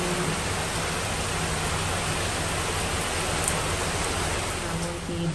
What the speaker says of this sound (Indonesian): Hujannya tambah deras deh